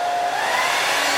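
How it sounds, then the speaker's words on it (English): A handheld hair blow dryer used without a diffuser runs steadily at close range, a loud continuous whooshing roar with a faint motor whine and no talking. "And I have my blow dryer."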